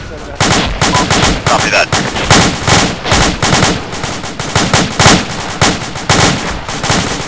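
Heavy gunfire in the military video game Arma 2 is loud and continuous, with rapid bursts and single shots cracking close together and a brief radio voice over the top.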